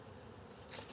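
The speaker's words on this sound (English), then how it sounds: "And I'll go ahead and shake these bees off" Honey bees shaken off a brood frame give a brief soft buzz, quiet and close, that jumps up near the end in a short burst of sound.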